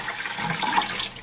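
Water poured into a 75-gallon bioactive terrarium cage being built for a pet cane toad, a steady close splashing, running flow lasting the whole moment with no talk over it.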